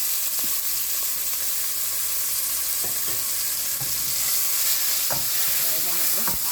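Pineapple pieces fry in a pan with a steady loud sizzle, while a utensil stirs them and scrapes and taps against the pan in irregular knocks.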